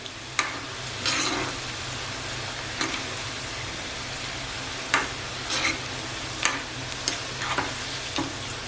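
Cabbage pakodas (kobi bhajji) fry slowly over a low gas flame, giving a continuous soft sizzle with scattered small pops and crackles, close by and moderately quiet.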